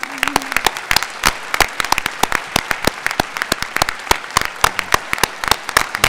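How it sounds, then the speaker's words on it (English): At a university address, an audience gives a round of applause, loud, close, sharp individual claps sounding in a brisk uneven rhythm throughout, with no talk over it. "let's give him a round of applause"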